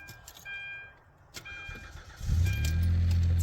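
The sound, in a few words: Hyundai Santa Fe engine cranking, trying to start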